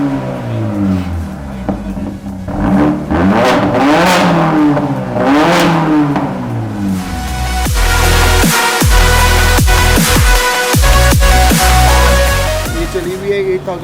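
A Jaguar XJL revs its engine through the exhaust, the loud rising and falling drone surging in several blips before settling into a sustained, dense roar with sharp pops near the end.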